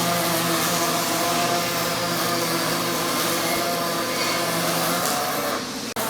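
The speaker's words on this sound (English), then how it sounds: "while the robot continues to weld that beam" Robotic welding cell welding a steel log splitter beam in a factory, a loud, steady continuous hiss and hum that drones without a break until a brief dip at the very end.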